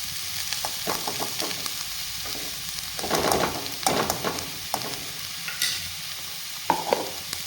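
Carrot frying in ghee in a kadai, a gentle steady sizzle under uneven scraping and stirring strokes that cluster and grow louder in the middle, then ease off.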